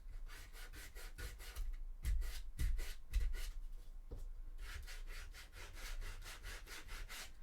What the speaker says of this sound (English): Let's sand some of the rough edges.